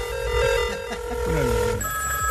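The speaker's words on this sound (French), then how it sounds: "télécharge la sonnerie de ton candidat préféré pour 2022" A telephone-style ringtone chimes steadily with bright repeating tones, layered over a warbling electronic melody and a low background hum.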